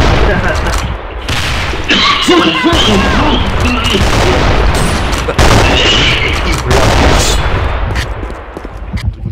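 Video game grenade thrown and exploding amid heavy gunfire, loud continuous bursts and booms filling the scene, with players talking over the battle.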